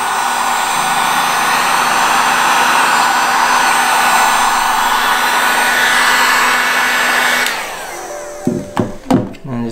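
A heat gun blows hot air over the vinyl wrap edges on a motorcycle, a loud continuous whirring hiss held for about seven seconds before it cuts off, followed by a few soft knocks and handling sounds.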